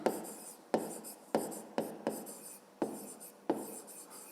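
A pen scratches on notebook paper in seven short, evenly spaced strokes, each starting sharply and trailing off. The writing is close and quiet, with no voices.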